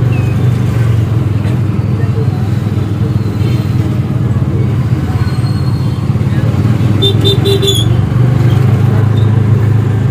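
A busy ST bus stand with a crowd and passing traffic, a constant loud rumble of engines under murmuring voices and distant chatter, with a couple of brief higher tones near the end.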